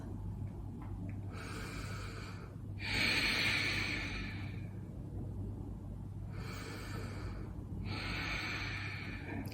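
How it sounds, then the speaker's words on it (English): Ocean breathing at a yoga session at the One Sky Festival: four slow, raspy breaths drawn in through the nose and sighed out through a slightly constricted throat, close and steady over a low continuous hum. "Keep going here with your ocean breathing."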